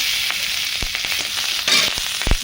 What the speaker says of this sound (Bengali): মাছ ভাজার তেলটা ছিল সেই তেলেতে তুলে দিচ্ছি। কালো জিরে প্রথমে দিয়ে দিচ্ছি ফোড়নের জন্য